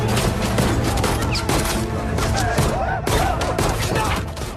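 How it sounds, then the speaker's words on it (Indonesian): Sustained gunfire in a film scene of a gangster massacring a house of henchmen, dense loud volleys and bursts of shots running continuously with crashes, some voices mixed in. "langsung tanpa pandang bulu menembaki semua anak buah direktur rumah tanpa terkecuali"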